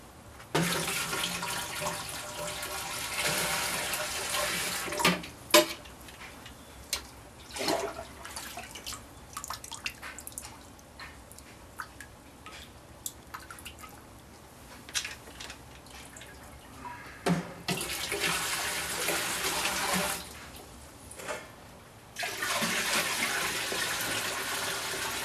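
Tap water runs in a steady broadband rush into a Braumeister 20L electric brewing system as 23 liters are filled, with loud pouring stretches at the start and end and quieter splashing and drips between.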